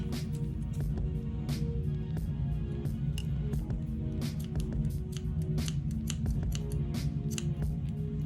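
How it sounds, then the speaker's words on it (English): Scissors snip through crochet yarn after a chain of 100 stitches, a series of sharp, close cuts and clicks repeating steadily over a low background hum. "Then once you chain 100, just cut your yarn."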